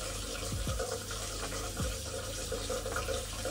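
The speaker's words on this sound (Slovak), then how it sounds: "Spusti vodu a zistíme." Tap water runs steadily into a sink after a drain trap has been refitted, a constant close rushing and splashing with a few low gurgles from the drain.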